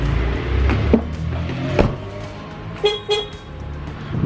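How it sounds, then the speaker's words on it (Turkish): A car being locked with its remote gives two quick electronic chirps near the end, over steady street and traffic noise outdoors. "Arabayı kilitleyelim."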